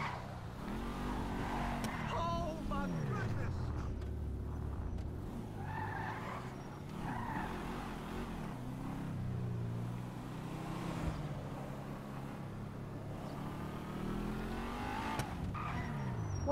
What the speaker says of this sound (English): This is a Del Funchi Rapid GT Sports.